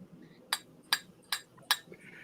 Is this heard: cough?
no